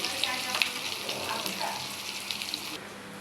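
Raw onion and green chili fry in oil with a bright, even sizzle and a couple of light utensil clicks, then the hiss drops away abruptly just before the end.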